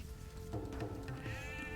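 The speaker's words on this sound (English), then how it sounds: "So we still have another sheep." Sheep bleating in a real-time strategy video game, a short wavering bleat rising over a steady hum of game background sound and music, moderately faint.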